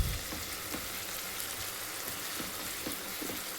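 Keema masala frying in a pan, a steady close sizzle with scattered pops and crackles throughout, no voices.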